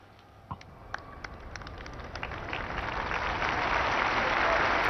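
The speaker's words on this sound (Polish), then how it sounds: "Rozwijają się oklaski zebranych pielgrzymów tutaj na placu Świętego Piotra." Pilgrims applauding in St. Peter's Square at the close of a papal general audience, scattered claps building into sustained, swelling applause from a large outdoor crowd.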